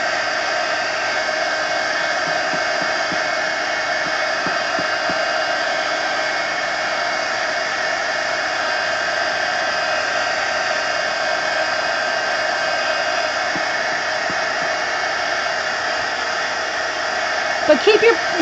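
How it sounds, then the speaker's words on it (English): Heat gun blowing steadily over an art journal page, a loud constant whirring hiss held for a long stretch with slight handling noise near the end. "But keep your heat gun moving"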